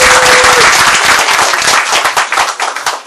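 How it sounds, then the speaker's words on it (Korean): A live audience at a Korean political talk event breaks into brisk applause, dense clapping that fills the whole clip before it thins and tapers near the end. "박수!"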